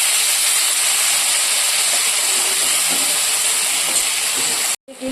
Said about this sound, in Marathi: आता आपण जे किसलेली होती बटाट्याची पीस ते टाकूया तेलामध्ये फ्राय होऊ दे